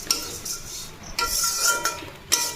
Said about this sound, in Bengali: এখন চিড়ে ভাজছি